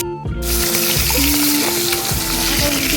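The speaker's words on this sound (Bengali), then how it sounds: "আবারও কড়াইয়ে তেল দিয়ে দিচ্ছি, মাছের মাথাটা ভেজে নেব" A fish head sizzles loudly in hot oil in a wok, a steady close crackle and hiss that runs the whole time, with clattering stirring knocks over it.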